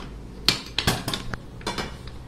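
A Prestige 3.5 litre pressure cooker handled in a home kitchen, giving a few sharp metallic clanks and knocks spread over a couple of seconds, close and fairly loud with no talk.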